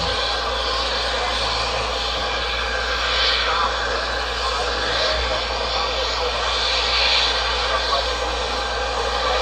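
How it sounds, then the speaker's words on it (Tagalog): An airplane descending to land in the Netherlands produces a steady, broad jet roar that swells slightly at times, heard at a distance throughout with a faint background hum. "Ayan o, pababa na aeroplano."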